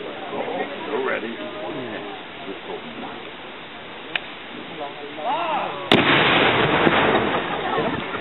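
Confederate cannons firing at a Civil War reenactment, with crowd talk and commentary throughout and a loud blast near the end followed by sustained rumble; earlier reports are fainter and more distant.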